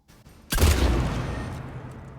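One heavy, cannon-like shot from the Claymore shotgun in the video game Mass Effect 3 hits abruptly after near silence, then rolls off in a long, booming tail, with no voices.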